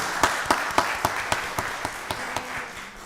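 Sparse applause from an audience at a county board of commissioners work session, with distinct individual claps fading off in a loose rhythm over a few seconds in a quiet room.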